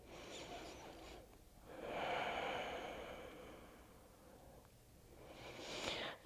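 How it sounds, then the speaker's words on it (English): Deep belly breaths during a morning yoga flow, with slow audible inhales and long airy exhales swelling and fading twice, soft and close with no talking. "breathe into the belly."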